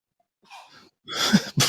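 A quick intake of breath followed by a sharp, loud sneeze and a second burst, close and unaccompanied by talk.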